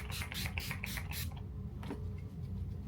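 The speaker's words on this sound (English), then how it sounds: "just mist your face" A small spray bottle mists rose witch hazel onto a face, a quick burst of about five rapid hissing pumps followed by a fainter single spritz over a quiet room.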